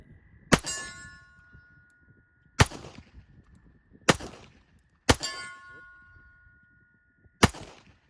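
Remington R1 Carry pistol fired at a shooting range, five sharp loud shots spaced irregularly over several seconds, each with a ringing metallic clang and brief decay, no talk between them.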